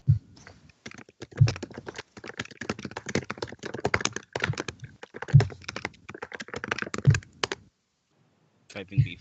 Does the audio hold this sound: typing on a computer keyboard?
yes